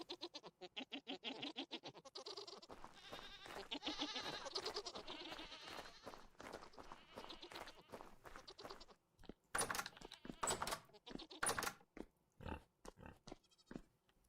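Goats bleat repeatedly in Vintage Story, a survival game, their calls overlapping in a dense farmyard chorus that continues through the clip, followed by sharper, louder clatter and bursts toward the end.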